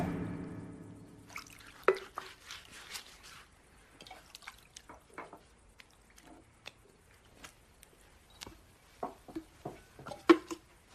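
Water splashes and drips into a basin for washing feet, a series of close, light trickles and drops scattered unevenly, some louder plinks standing out, with no talking.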